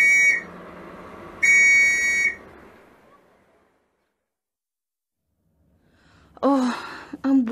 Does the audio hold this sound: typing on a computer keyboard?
no